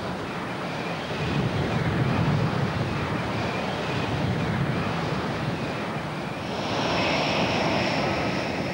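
The engine of a Yak-38 jump jet roars steadily at a distance, a broad rushing blast with wind buffeting that brightens with a higher whine toward the end.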